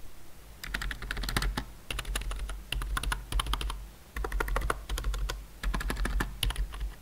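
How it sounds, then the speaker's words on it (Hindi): Typing on a Meetion MT K841 wired office keyboard: rapid, close bursts of clattering keystrokes in several runs separated by short pauses, with no voices. "अगेन की प्रेस साउंड"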